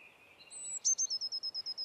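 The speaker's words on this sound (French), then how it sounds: "La mésange bleue." A blue tit calls in the wild, a high thin note followed by a rapid series of about ten clear, evenly spaced chirps, close and distinct against a quiet background.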